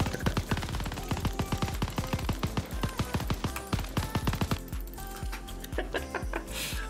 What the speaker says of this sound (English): This machine gun makes good music